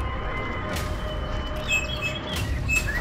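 A racing pigeon lands at its loft during a Tondo pigeon race, giving a few faint, high chirps over steady outdoor background noise.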